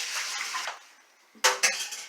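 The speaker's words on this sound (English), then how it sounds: "So I'm going to go ahead and drain out these potatoes" Boiled potatoes being drained from a pot: a hiss of pouring water fades out, followed by two sharp metallic clanks of the pot and lid nearby.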